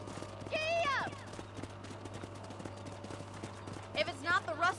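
A horse gallops in the Red Dead Redemption video game, its hoofbeats a quick, steady thud under a constant low engine-like hum, while voiced dialogue rises briefly at the start and end.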